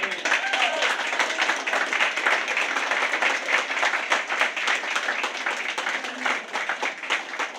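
A church congregation applauds at a baptism during a worship service: dense, steady clapping from many people fills the room at a lively, even level for several seconds without pause.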